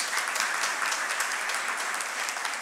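A congregation at a Portuguese-speaking evangelical church service applauds together, producing a loud, close, continuous wash of rapid hand claps that holds steady throughout without any voices on top.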